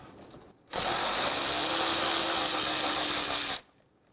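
A ratchet or power driver with a 10mm socket runs steadily for about three seconds, loud and close, as it backs out radiator fan shroud bolts on a 2005-2015 Toyota Tacoma 2.7L four-cylinder.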